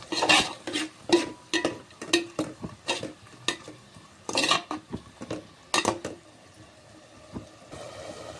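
Mushroom pulao is mixed with salt and biryani masala in a pot, a series of close, uneven scraping and clinking strokes of a spoon with light sizzling underneath, thinning out toward the end, no voices.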